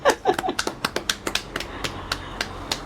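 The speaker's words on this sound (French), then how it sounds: "Nous, on vient applaudir ça." Scattered clapping from a small studio audience, a series of distinct sharp claps spaced irregularly rather than a full ovation, close and crisp.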